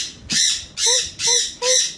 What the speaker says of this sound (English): I'm going to be showing you my cute parrot.